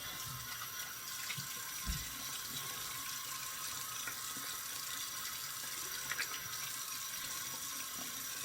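Steady spray of water rinsing a surface outdoors, a constant broad hiss that stays even and moderately far throughout, with a few faint knocks and no voices.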